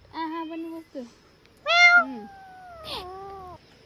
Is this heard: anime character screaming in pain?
no